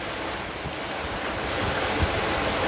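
Wind and surf wash steadily around a sailing boat cruising off Borneo, a continuous broadband rush with gusting microphone wind and lapping water that swells slightly louder near the end.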